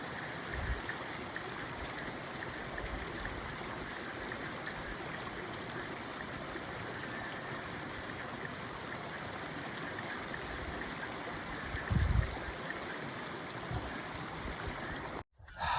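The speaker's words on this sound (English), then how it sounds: "I can hear a creek up ahead." A creek flowing in the Sierra Nevada near Arrowhead Lake, a steady, even rush of water heard up close for the whole stretch, with one brief knock partway through.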